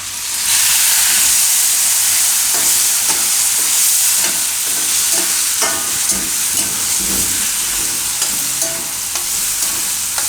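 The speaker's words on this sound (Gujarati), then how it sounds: "એને ખાલી તેલમાં આ રીતે મિક્સ કરી અને તરત આપણે ટમેટાં નાખી દઈશું." Tomatoes and Kashmiri red chili sizzling loudly in hot oil for Jain pav bhaji, a dense hissing fry with intermittent stirring scrapes and clinks close to the pan.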